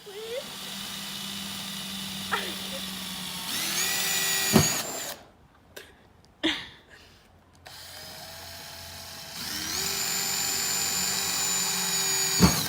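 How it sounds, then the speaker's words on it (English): A power drill bores holes into a plastic bin in several whining bursts with pauses and handling noise between them, close and loud, with people talking at times. "get your drill. And your bin. And you're going to want to drill like 6 to 10 holes about an inch or two apart"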